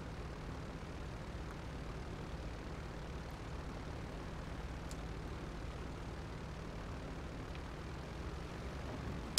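A Coast Guard C-130 in GTA 5 taxis with its engines running, a steady broad droning roar that holds at a constant level throughout, with no one talking.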